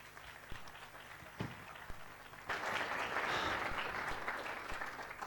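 Audience applause greets Bolivia's Minister of Economy and Public Finance at a budget presentation, starting with a few scattered claps and then swelling halfway through into full, steady clapping.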